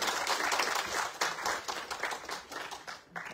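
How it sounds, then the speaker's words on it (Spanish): Applause from the audience at an economic-social conference at UAM Xochimilco, moderately faint clapping that swells and eases in waves before tapering off. "por favor un aplauso"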